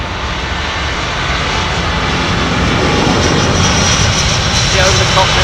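Airbus A220 jet engines roar loud and close at Heathrow Airport, a dense, steady rumble that builds slightly over several seconds, with a voice talking over it.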